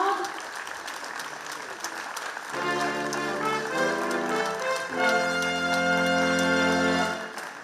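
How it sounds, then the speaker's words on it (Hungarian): Audience applause at a festival honouring Tony Curtis, a steady broad patter of many hands that swells midway as music and a voice come in over it. "Köszöntjük őt nagy tapsa,"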